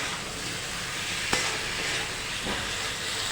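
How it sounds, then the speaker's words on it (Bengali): Eggplant and potato pieces fry with onion in hot oil for a tilapia curry, giving a dense, steady sizzle close by, with one sharp clink of a stirring utensil midway and softer scraping after. "তেলের মধ্যে বেগুন আর আলুগুলো একটু ভেজে নিতে হবে পেঁয়াজের সাথে।"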